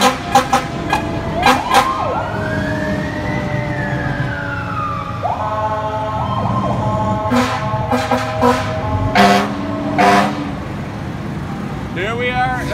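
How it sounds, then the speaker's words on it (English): Owasco fire department fire engines in a parade sound a wailing siren that rises and falls, along with several loud blasts of the air horn, over crowd noise and voices. "Come on, hit the horn!"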